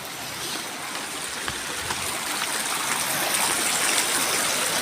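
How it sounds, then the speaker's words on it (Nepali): The small Gomati stream flows nearby with a continuous, even rush of water that grows slightly louder over a few seconds, with no voices. "यो सानो खोला यहाँ बगिरहेको छ"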